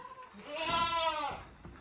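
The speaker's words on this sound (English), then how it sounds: "So these are happy goats." On a goat farm in Jamaica, a single goat lets out a clear, wavering bleat at close range against a faint steady hum.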